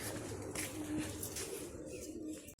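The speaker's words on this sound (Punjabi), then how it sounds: "ਦੂਜੇ ਕਬੂਤਰ ਉੱਡੀ ਜਾਂਦੇ ਆ" Pigeons cooing at a rooftop loft, a steady low throaty coo running continuously and close by, with no talking over it.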